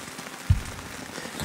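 Rain pattering on a tent during an electric motorcycle trip in the Rocky Mountains, a soft continuous patter with a single louder drop or thump near the middle, close by and with no talking.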